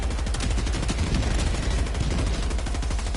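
Rapid automatic gunfire in Helldivers 2, a dense, continuous stream of loud close shots hammering without pause for the whole stretch, heavy low-end punch under each burst, no voices.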